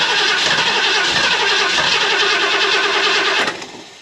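A big Ford 351 Cleveland V8 in a Mercury Capri cranks and catches, roaring loud and steady close by for about three and a half seconds before the revs drop away.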